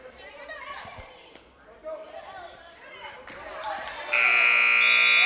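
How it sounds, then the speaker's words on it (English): End-of-game buzzer at a girls' varsity high school basketball game in a gym, a loud sustained blare cutting in after crowd noise, shoes squeaking and voices. "And there is the buzzer"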